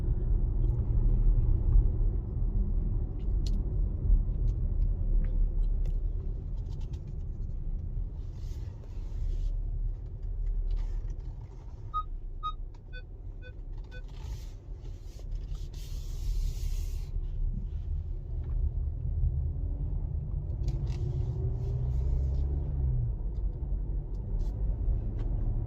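Volkswagen Tiguan R Line engine pulling hard uphill in sports mode, a steady close low rumble of engine and road noise holding for the whole stretch with no talk over it.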